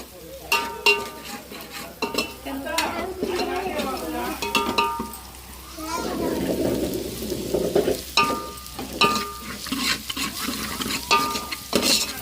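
Masala frying in a pan for a chicken-bone curry, an ongoing sizzle broken by frequent metallic spatula scrapes and clinks against the pan, close and irregular, with brief voices in between.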